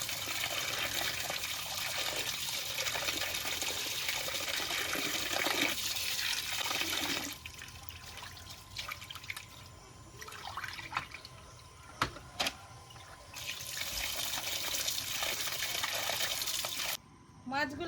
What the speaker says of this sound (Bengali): মাছগুলো কাটা হয়ে গেছে, এখন ভালো করে ধুয়ে নেব।